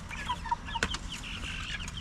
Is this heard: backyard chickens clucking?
yes